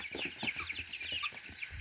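Chickens cluck close by in quick, busy bursts, several soft calls overlapping in a short run.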